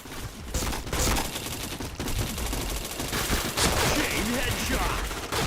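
Rapid automatic gunfire in a shooter video game, dense bursts of shots packed together, loud and continuous, with a voice faintly present underneath.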